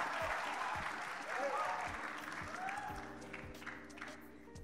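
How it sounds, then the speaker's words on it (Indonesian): Applause from an audience at a conference music session as musicians take their instruments, moderate clapping that gradually thins while a voice speaks over it. "Tepuk tangan dong."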